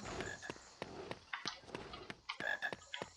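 Frog croaking in the Harry Potter and the Philosopher's Stone video game during a herbology lesson, a steady run of short rhythmic croaks with sharp clicks, moderately loud over a faint ambient game background.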